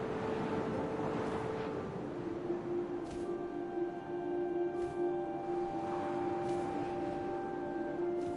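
Wind blowing in the video game What Remains of Edith Finch, a steady low rushing drone with faint tonal layers and a few soft gusts, alone and constant.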